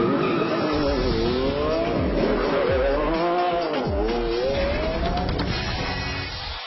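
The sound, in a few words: 2012 Lamborghini Aventador LP 704 driving laps on a race track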